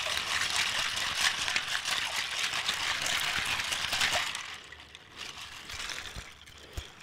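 Water bricks give a steady, full wash of splashing and trickling water close by for about four seconds, then a softer, sparser patter of drips and small pours with a few sharp taps.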